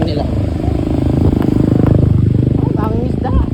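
A motorized fishing boat engine runs with a loud, fast, steady chugging putter, close by, while voices talk over it.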